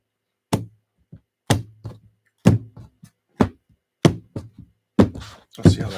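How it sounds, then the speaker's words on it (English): A series of sharp wooden thunks and taps as tarot cards are shuffled, about eight of them, spaced roughly evenly, close and crisp with quiet gaps, ending in a brief rustling flurry. "Oh, we're going to shuffle a little different for you."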